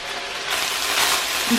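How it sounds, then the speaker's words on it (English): Steady broadband sizzle of minced meat frying in a pan, close and continuous, growing slightly louder partway through with no talking. "You can hear my mince sizzling away"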